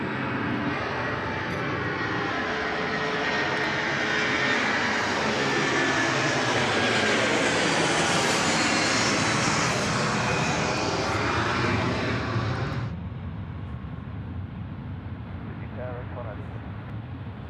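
Aircraft taking off at night in fog at Sydney Airport, a loud sustained engine roar that builds and swells, then cuts to a fainter rumble as it climbs away; someone talks over it.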